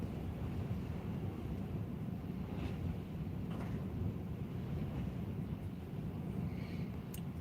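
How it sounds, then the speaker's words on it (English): Wind blowing across a fishing lake buffets the microphone with a continuous low, rumbling roar at steady loudness, heard alone without talk. "I don't know if the wind's dropping at all"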